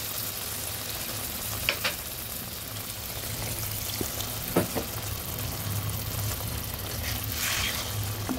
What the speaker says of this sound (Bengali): ধনেপাতা পেস্ট করেছি ওই জলটা দিয়ে দিলাম।